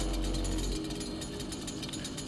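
A chainsaw weapon in the video game Doom 2016 grinds with a loud, steady, rough buzzing drone, a heavy low rumble at the start, then a continuous rattling roar with no talk.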